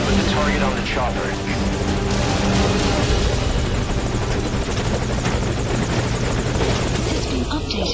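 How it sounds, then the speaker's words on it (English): Helicopter in the video game Metal Gear Solid V: Ground Zeroes, with a loud continuous rotor and engine roar filling the whole stretch while voices speak over it. "Put the target on the chopper."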